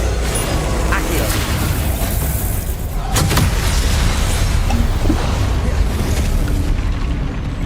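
Accio summoning spell cast in Hogwarts Legacy lands with a deep boom near the three-second mark, then fades into a rumbling game soundscape of pops and mechanical noise.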